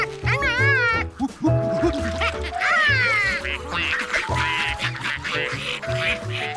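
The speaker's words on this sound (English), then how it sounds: "Feed the ducks." Cartoon ducks quack repeatedly in bursts over a busy animated soundtrack with music, loud and close throughout.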